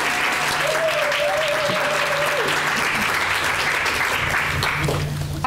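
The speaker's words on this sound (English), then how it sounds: "another round of applause" Conference audience giving a speaker another round of applause: sustained, full-room clapping at a steady level throughout, with a brief voice or whistle-like tone rising early on and a few louder individual claps near the end.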